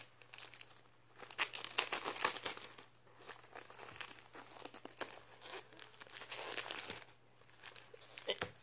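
Plastic wrap and packaging being torn and crinkled off a Chinese-edition anime DVD box set, close rustling and ripping in uneven bursts, with a person talking over it.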